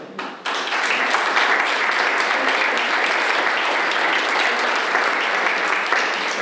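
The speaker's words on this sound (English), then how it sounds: "give them a round of applause." An audience breaks into dense, sustained applause to welcome four panelists, the clapping starting abruptly and staying loud and even throughout.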